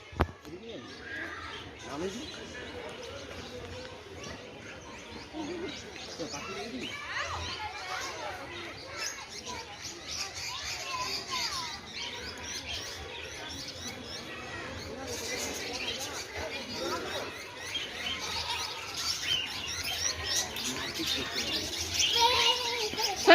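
Birds chirp and tweet repeatedly across a busy outdoor soundscape at the Aurobindo children's park and zoo, with calls scattered over steady crowd noise and voices of people nearby.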